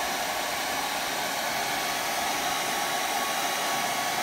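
A blow dryer runs on high heat to melt wax, a steady, close, unbroken rushing hiss of air that holds level throughout with no voices.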